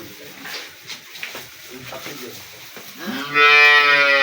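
A dairy cow on a small farm gives one loud, long, close moo near the end, after a stretch of someone talking over faint farm sounds.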